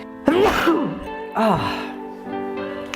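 A single loud sneeze bursts out near the microphone, followed by a second sneeze-like burst with a sharp intake and fading breath afterward.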